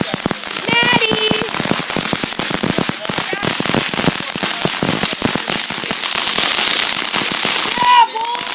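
Fourth of July fireworks burst in rapid, dense crackling volleys near and loud, with occasional whistling rockets rising over the barrage, and people talking and exclaiming underneath.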